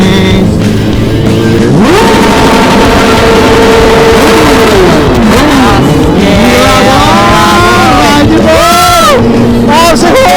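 A Kawasaki ZX10R motorcycle revving hard, its engine pitch climbing and falling in repeated loud blips close by, amid street crowd noise with people talking.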